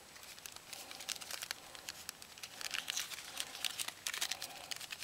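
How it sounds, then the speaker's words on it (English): Soft, close crinkling of a plastic bag, irregular rustles rising and falling in quick bursts. "put this back in the plastic bag"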